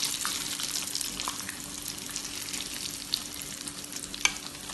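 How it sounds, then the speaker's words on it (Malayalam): Already-cooked chicken pieces fry in a hot pan for chicken mandi, a steady close sizzle with crackles and a few sharp pops as the pieces are turned. "ഇത് ഓൾറെഡി വെന്ത ചിക്കൻ ആയതുകൊണ്ട് അധികം സമയം വെക്കണ്ട, പെട്ടെന്ന് തിരിച്ചു മറിച്ചു വിട്ടിട്ട് ഫ്രൈ ചെയ്തെടുക്കാം"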